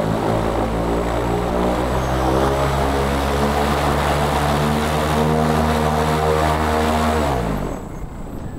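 An electric paramotor's propeller runs at a loud, steady drone with strong tonal harmonics, holding close and constant before winding down near the end.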